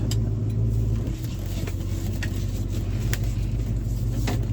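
A one-owner 1969 Ford Mustang with 59K original miles, revived after sitting over 30 years, pulls away with a steady, loud engine drone and low rumble, with faint ticks and clicks over the hum.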